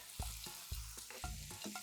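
Pork tenderloin fries in a pan with onion, pepper and capers, giving a soft sizzle broken by a few distinct stirring scrapes in quick succession.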